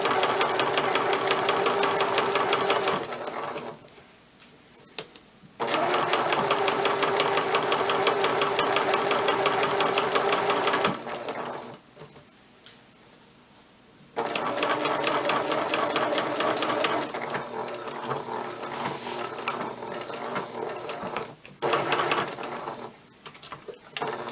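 A sewing machine stitches a button placket in bursts, its rapid mechanical whirring running for several seconds at a time, stopping briefly between runs, close and steady.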